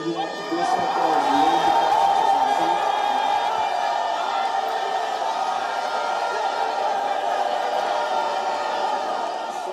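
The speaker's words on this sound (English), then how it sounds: "Celebrating crowds filled the streets of the capital city of Kinshasa" Dense crowd noise fills the streets of Kinshasa, Congo, as people celebrate President Felix Tshisekedi's re-election, with steady loud cheering, shouts and whoops sustained throughout.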